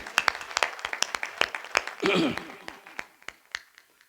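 Scattered, sharp handclaps ring out in an assembly hall, distinct individual claps in an uneven rhythm with a brief burst of voices in the middle, rather than a full sustained ovation.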